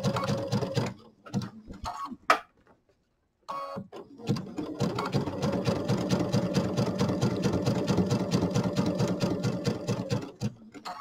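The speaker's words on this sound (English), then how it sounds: "So I've been using a 2 millimeter zigzag, and that seems to work for me." A sewing machine runs a 2 mm zigzag stitch, attaching binding to a fabric project bag. After a few short starts and a brief pause it settles into a steady, fast, close mechanical rattle with no talking.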